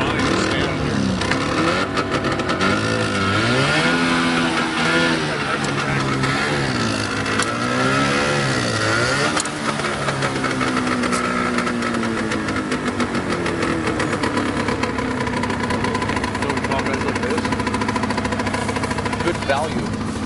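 Small vehicle powered by a chainsaw motor runs at a festival, a buzzing two-stroke drone that rises and falls in pitch as it revs, continuous and loud with people talking nearby.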